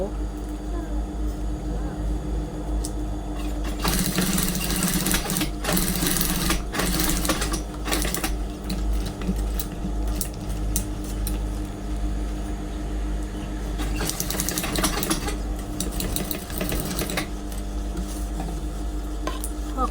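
A sewing machine stitches a bag in a steady mechanical whir, running in loud bursts with brief pauses between passes, heard close up.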